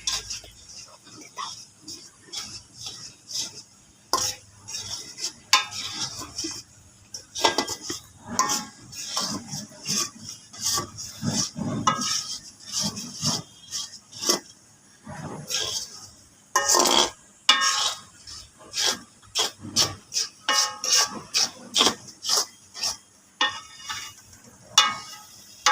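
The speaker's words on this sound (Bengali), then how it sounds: "এবার নাড়াচাড়া করে নিই।" Noodles are stirred in a pan with a utensil, making repeated scraping clinks and taps in irregular bursts, loud and close, with a person speaking in between.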